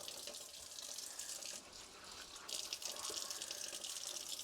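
Water runs from a tap over cast iron pans being washed to clear out rust, a steady, faint stream with a slight shift in tone partway through and no talking.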